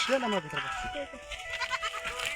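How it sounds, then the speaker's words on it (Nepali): Goats bleating inside their pen on a farm, a few wavering cries up close at the start, then softer bleats under nearby talking. "यहाँ बाख्राहरू छ"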